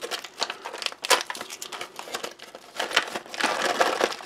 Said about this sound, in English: We'll have a look at the cranberries sliced. Nice little or large pack. Just tear open there.